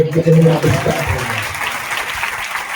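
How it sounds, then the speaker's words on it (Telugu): Congregation applause at a Sunday church service at Messiah Temple, Pedakakani: a brief voice at the start gives way to a steady, moderately loud wash of clapping that carries on to the end. "చప్పట్లు"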